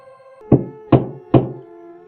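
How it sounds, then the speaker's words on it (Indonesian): Three sharp, evenly spaced knocks on a door sound close and loud over a low background hum, in a horror-story setting at night, with no speech. "Suara ketukan itu masih ada."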